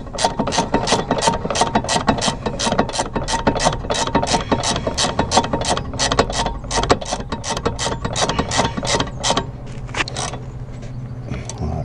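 Steady rapid ratcheting clicks from a wrench turning a ball joint nut, mechanical and close, running continuously with a slight change near the end.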